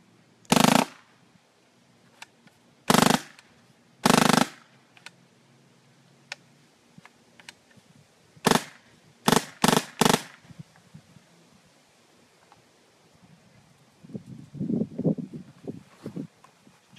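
An MCS Vortex blaster fires in separate loud, sharp bursts, a few spaced shots followed by a quick cluster of three, with faint clicks between them and a soft rustle near the end.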